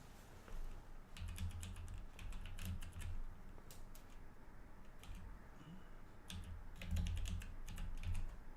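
Rapid clusters of keystrokes on a computer keyboard, coming in quiet bursts separated by brief pauses, close but soft, with no one speaking.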